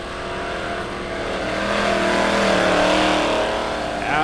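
Dirt track race cars roar around Lebanon Midway Speedway during a heat race, a steady, loud engine drone that swells as the cars come out of a turn, heard close and continuous with no talk.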